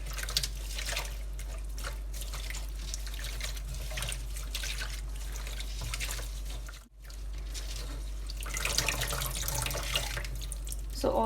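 Leafy vegetables swished and washed in a sink of water, a steady close splashing and trickling with faint drips, briefly dropping out near the middle before resuming more busily.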